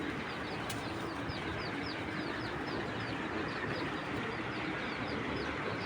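Pigeons coo in a steady, dense flock chorus that runs the whole time, with a background of bird chatter and no voices.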